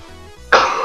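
A single harsh cough bursts out partway through, loud and close, after a quiet stretch, with no speech.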